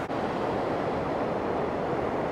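A waterfall along the Iceland Ring Road, heard as a steady, dense roar of rushing water with no breaks, fairly loud and close, no voices.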